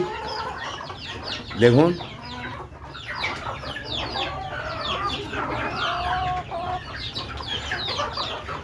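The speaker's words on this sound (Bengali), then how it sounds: "আমি ছাদে বর্ষাকালের অবিরাম বৃষ্টিতে কিভাবে দেশি মুরগি পালন করি" Desi chickens cluck repeatedly on a rooftop in steady rain, with a louder burst of clucking near the start over a constant hiss of rainfall; a voice speaks briefly.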